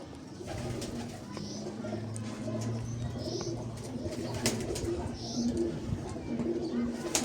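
Pigeons kept by a breeder coo softly in repeated low, rolling calls, close by, with someone talking over them throughout.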